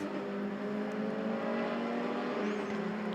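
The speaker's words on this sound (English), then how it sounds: "2-stroke engine that makes all kinds of great sounds around here." Two-stroke race car engine at an SCCA racetrack, an oil-burning car with exposed exhaust pipes: a steady, buzzing high-revving drone held at near-constant pitch, loud and continuous, with no speech.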